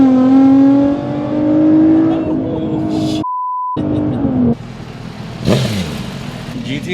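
A 2017 Nissan GT-R with straight-pipe exhaust, full exhaust, intake and tune, revs loudly with rising engine tones, cuts off briefly, then roars again as it launches, with some voices in the background.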